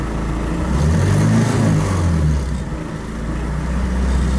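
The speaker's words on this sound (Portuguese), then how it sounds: "você vai pegar e soltar a embreagem com tudo e acelerar no fundo." A VW Gol Turbo with its engine held high while the clutch is dropped for a burnout, a loud continuous roar close by that swells and wavers in pitch over a few seconds.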